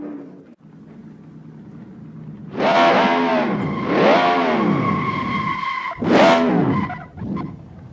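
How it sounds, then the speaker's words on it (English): A car engine with a thin, electric-drill-like whine, revving up in three loud surges with falling pitch between them, close by and without speech. "I wish it had a roar to the engine rather than a creepy electric drill sound"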